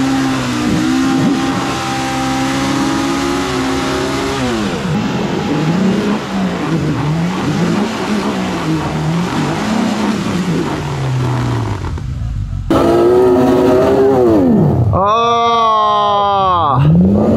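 Car engine revving hard during off-road drag racing on a dug-up dirt course, the roar climbing and falling in steady surges, with a second engine winding up sharply near the end.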